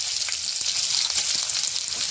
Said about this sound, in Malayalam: ആദ്യമായിട്ട് ഇത്രയും പെട്ടെന്ന് ഫാസ്റ്റായിട്ട് കടുക് പൊട്ടുന്നത്